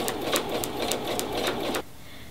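Sewing machine stitching through a quilted pot holder, a fast run of about eight rhythmic needle strokes, close and clear, stopping abruptly near the end.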